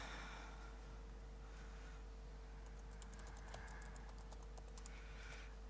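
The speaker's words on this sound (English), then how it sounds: "you start typing something." Quiet keyboard typing from about the midpoint onward, a quick run of light clicks over a steady low hum, with no voices.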